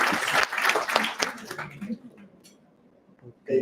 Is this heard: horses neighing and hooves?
no